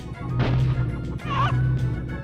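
A game chicken squawks and clucks loudly over a steady low electronic hum and busy background sound effects.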